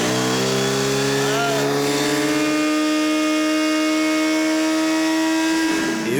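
Kawasaki Z900 RS motorcycle engine on a dyno, revving up to the rev limiter and holding a loud, steady high-pitched tone that is close and strong, with a sudden cut at the end.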